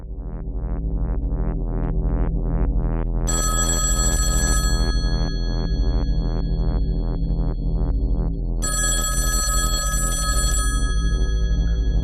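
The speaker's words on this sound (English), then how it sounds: "well, are you going to answer the phone?" Telephone ringing with a steady, rapid electronic throbbing pulse, loud and close, with bright bell-like bursts layered on top twice, no talking.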